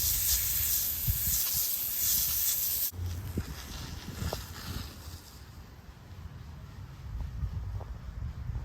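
A steady hissing spray of water rinsing dirt off freshly dug fossils from Trammel Fossil Park, loud and continuous at first, then softer and rougher as the stream changes, with faint splashes and scraping throughout.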